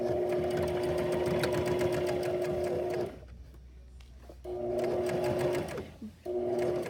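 Sewing machine stitching a Christmas stocking seam at a half-inch allowance, a loud continuous whirring run, a brief pause, then the stitching resumes in close, steady bursts.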